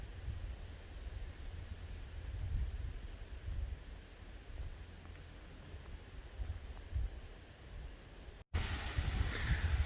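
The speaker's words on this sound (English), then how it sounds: "I hope that the wind noise is not too annoying." Wind blows across an open field, a steady low rumbling buffet against the microphone with gusts swelling and easing, briefly cut near the end before resuming stronger.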